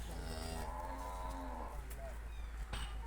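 A Cholistani Friesian cross cow moos once, a long, loud, close low call in the first half, over steady farmyard hum and a few faint knocks.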